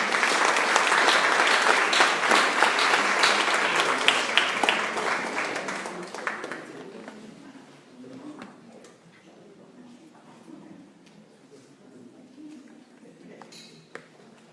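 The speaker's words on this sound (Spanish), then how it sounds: "agradezcamos la participación de las presentadoras con un aplauso general, por favor" A seated audience at an academic talk gives its presenters a general round of applause, dense and steady clapping for about six seconds before it thins into scattered claps and quiet room noise.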